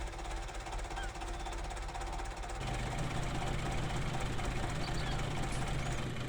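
A Ford 5610 tractor engine in Farming Simulator 19, using recorded real tractor sounds, cranks and starts, then settles into a steady, loud, knocking diesel idle that continues without talk.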